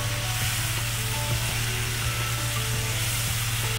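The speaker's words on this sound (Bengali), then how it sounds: "ধুয়ে রাখা কিমাগুলো আমি দিয়ে দিলাম। দিয়ে ভালো করে কষিয়ে নেব।" Washed mutton mince frying in a pan for a tarka dish, a loud continuous sizzle and hiss under a steady low hum, with light stirring taps.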